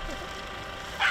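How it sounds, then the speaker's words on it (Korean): A dog barking outdoors where feral, abandoned dogs roam, heard as one short, fairly distant bark near the end over steady low background noise. "짖는 소리도 들려서."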